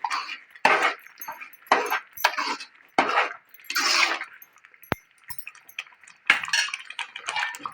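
A spoon stirs tomato pachadi in a pan with a string of scraping, clattering strokes in irregular bursts, close and fairly quiet, separated by short pauses and one sharp knock near the middle.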